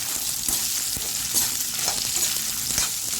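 Dried red chillies and coriander frying in a pan for a home-made chicken gravy masala, giving a steady, loud, close sizzle with faint stirring scrapes throughout.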